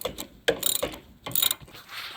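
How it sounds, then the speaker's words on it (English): A ratchet tightens the large engine mount bolts on a 2011–2023 Dodge Charger 3.6L Pentastar, with close, crisp clicking bursts in two or three quick strokes separated by short pauses. "now we'll just snug all these big 113s down"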